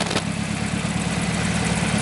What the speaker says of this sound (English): there's a couple things that I'm still trying to figure out, like that one right there, what's going on with the idle